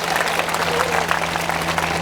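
A crowd applauds steadily and densely at a women's gathering in India, the clapping continuous and fairly loud throughout, with no speech over it.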